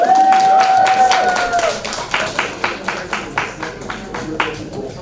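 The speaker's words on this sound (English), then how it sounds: "Let's give them a round of applause again" An audience gives a round of applause for teenage student writers at an event, a sustained tone fading in the opening seconds before the clapping settles into a loose, fairly loud patter of hands that tapers off unevenly.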